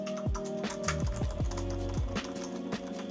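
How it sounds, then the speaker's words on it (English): Soft, muted keystrokes on a Logitech Signature Slim MK950 membrane keyboard tap out a quick irregular rhythm, close by, with no voices. "the keyboard click is pretty silent"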